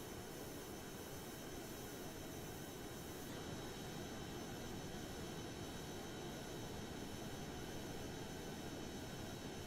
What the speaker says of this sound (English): this jet's got cool sound to it